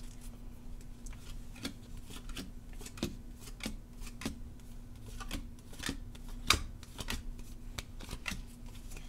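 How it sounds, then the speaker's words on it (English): Tarot cards being drawn and handled from a deck during a Scorpio reading, giving a series of soft, scattered flicks and slaps of card stock over a low steady hum, fairly quiet with no voice. "we're going to just draw 10 cards for Scorpio"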